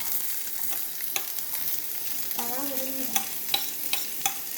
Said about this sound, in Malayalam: അപ്പം നമ്മൾ അതിലിടുകയാണ്. അപ്പോൾ സവാള ഇട്ടു, ഇനി മുളക് ഇട്ടു, പിന്നെ കുറച്ച് വെളുത്തുള്ളി ഇട്ടായിരുന്നു.